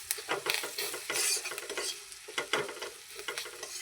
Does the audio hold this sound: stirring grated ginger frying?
yes